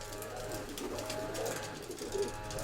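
Soft coos from an old breeding female pigeon repeat a few times at close range over a steady indoor background hum.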